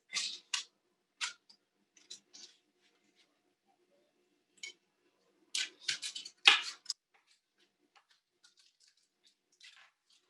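Knife cutting through sweet potato in a home kitchen, giving sparse, sharp, close cuts in small clusters separated by quiet pauses.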